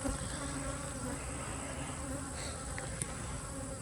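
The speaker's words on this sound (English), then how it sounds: "pressing the bees down so I can get them out of the super" Honey bees buzzing around hive supers during honey harvest in an apiary, a steady dense droning hum close by and unbroken, with no talking.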